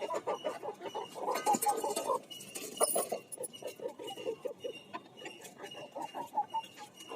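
Chickens are coming in to be fed, clucking and squawking in short, uneven bursts close by, with a few sharper calls mixed in.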